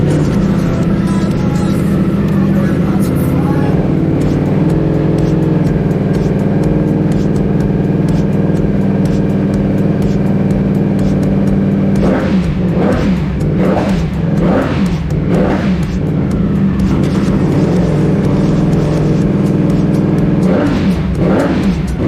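A 2022 Ducati Panigale V4 with a newly fitted aftermarket exhaust, its engine running loud and steady before a series of sharp throttle blips and revs rise and fall near the end.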